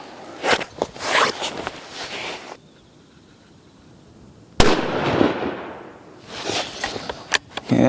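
A 7mm PRC rifle fired from the prone position gives one loud close crack with a trailing echo, set between bursts of rustling and shuffling handling noise before and after.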